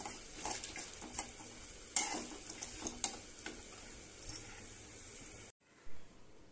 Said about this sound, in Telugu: ఎండుమిర్చి యాడ్ చేసుకుని బాగా ఫ్రై చేయాలి.